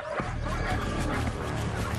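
African wild dogs, about the size of a Doberman, mobbing a hyena give loud yips and barks amid dense, busy noise, with the calls tumbling over one another throughout.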